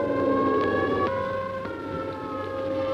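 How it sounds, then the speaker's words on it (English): Civil defense air raid sirens wail during a city drill, a steady, droning multi-tone howl that fills the air continuously, loud and sustained over faint traffic rumble. "It is 0 hour, and the sirens wail their warning."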